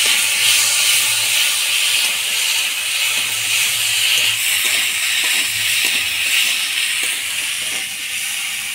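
Ginger and chili paste sizzle in a pan as they are stirred, giving a constant broad hiss with faint intermittent scrapes, close by and fairly loud, with no speech.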